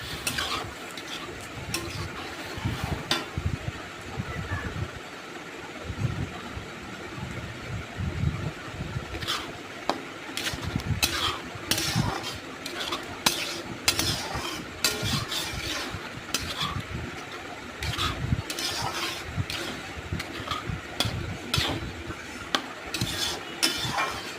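Grated pineapple chutney being stirred in a pan with turmeric and salt: steady scraping and soft clinking of a spoon against the pan over a low sizzle, continuous and moderately close, with no talking.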